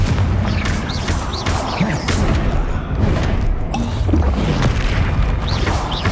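A Confringo blast spell explodes in the Hogwarts Legacy video game, giving repeated loud booming bursts and crashing impacts over a dense, continuous game soundscape.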